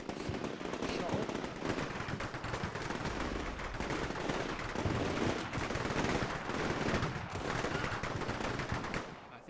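Dense, sustained gunfire in The Khabour Trail video game, with overlapping bursts of automatic fire and scattered explosive cracks filling the whole stretch at steady, loud intensity.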